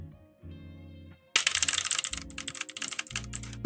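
Bursts of clicky typing on a Redragon Kumara mechanical keyboard, rapid and close, breaking in after a quiet tonal hum with a low background drone.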